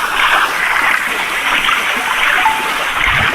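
Water splashing and churning steadily as two friends swim and bathe outdoors, a continuous broad wash of splashes close by with no pause.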